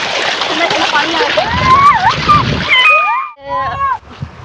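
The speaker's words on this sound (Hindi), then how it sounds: "कितना पानी आवे को, कितना प्यारा माहौल है।" Water gushes loudly and steadily from a tubewell, a continuous splashing rush with people talking and chirping voices over it.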